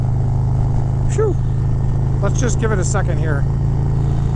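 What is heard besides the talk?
2023 Harley-Davidson Road Glide ST 135 Stage 4 motorcycle engine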